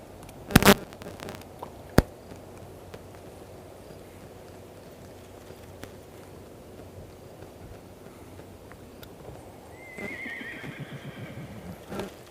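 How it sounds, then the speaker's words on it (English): A horse whinnies on a riverbank, a loud near neigh followed by a sharp knock, then faint outdoor background and light water sounds. "That's a horse in the background."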